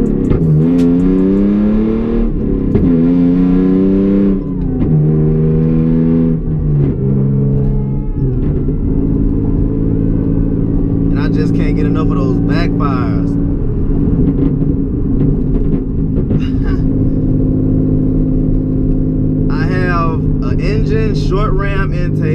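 A Hyundai Genesis Coupe 3.8 with a replaced resonator, cut-out muffler and short ram intake revs loudly up and down several times. It then settles into a steady, throaty drone, close to the microphone.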